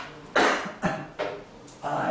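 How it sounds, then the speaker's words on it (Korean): A person coughs several times in quick succession, four dry, close bursts spaced about half a second apart, with throat-clearing sounds mixed in. "기침만 나오면 걱정돼가지고 미안해"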